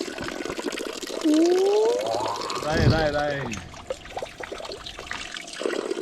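Spring water pours and trickles from a mountain source along a long-distance trail, a steady close splashing flow heard under excited voices talking and shouting.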